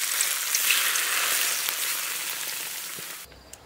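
Hot oil poured over garlic, chili, sesame and scallions for a spicy mao xue wang dish, a loud, hissing sizzle that begins at full strength, tapers gradually and cuts off abruptly near the end.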